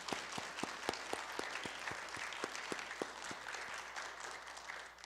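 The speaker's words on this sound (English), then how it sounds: "Let's give him another round of applause." A small audience at a piano studio recital claps warmly for several seconds, a steady wash of applause with a few distinct, closer hand claps standing out.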